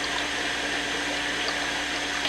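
Water rushes and splashes steadily as aquarium filter foam gets rinsed, a continuous close wash with no pauses.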